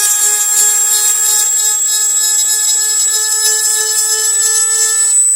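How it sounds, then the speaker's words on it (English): A power tool sands a polymer P80 frame's guide rail, giving a loud, steady high-pitched whine with a strong buzzing edge that runs unbroken and close, with no talking. "Just kind of sand everything down. You could do this by hand, but it's a little quicker doing this."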